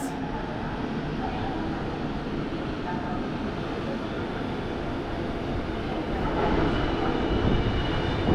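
The Adriatic Express train pulls into a station platform with a steady, loud rolling rumble that swells slightly near the end, and someone speaks over it.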